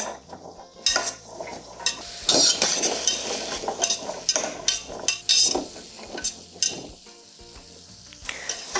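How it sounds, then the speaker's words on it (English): Onions and carrots sizzle and fry steadily in a pan, with repeated scrapes and clinks of a utensil stirring the vegetables, close and fairly loud, with no talking. "So we're going to saute these until the onions are soft."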